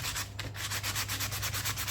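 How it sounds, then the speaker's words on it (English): A painted car dashboard gets sanded by hand with 600-grit paper, a steady close-up run of rhythmic scratchy strokes, light and even, with no voices. "and just start sanding."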